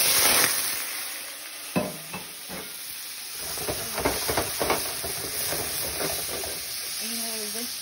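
Shrimp sizzle in a pot that has been heating for a while, a hissing fry with clicks of stirring and seasoning; a voice speaks faintly near the end.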